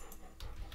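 A dog in the Stardew Valley farming game gives a short, quiet pant or whimper, a few soft breathy bursts within under a second, faint and alone.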